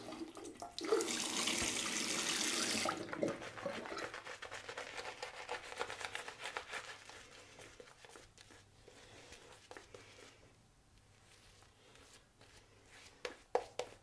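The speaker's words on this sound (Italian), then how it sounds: "Io aggiungo ancora un po' d'acqua." Water runs from a tap into a sink while shaving lather is thinned, a loud steady gush for about three seconds, then quieter splashing and dripping with soft handling noises.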